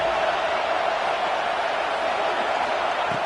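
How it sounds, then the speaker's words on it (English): A football stadium crowd roars steadily as the home fans try to lift their defense for a red zone stop, a dense and unbroken wall of noise throughout. "here comes the noise. This crowd is trying to inspire this defense to make a big red zone stop."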